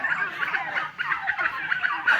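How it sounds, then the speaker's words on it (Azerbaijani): Turkeys gobble in quick, rattling bursts in a rural village yard in Qabala, Azerbaijan, loud and close, calls overlapping in a steady chorus with no talk. "Bunların da hindişkaları qaqqıldayır."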